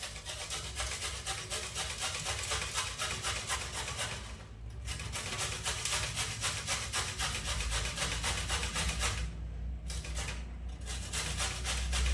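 Homegrown pumpkin being grated by hand on a medium grater, a continuous rapid scraping rasp with steady back-and-forth strokes, close and loud, broken by two short pauses.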